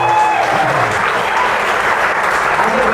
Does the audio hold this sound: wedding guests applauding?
yes